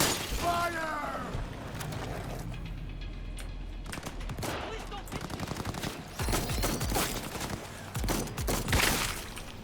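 Gunfire in the open-world game Cyberpunk 2077, a burst of loud, rapid shots and crackling impacts with shattering, spread through the clip in clustered volleys.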